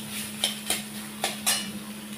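Chopped banana stem with turmeric and salt is fried and stirred in a pan, with a faint low sizzle and four distinct scraping knocks of a spatula at uneven intervals.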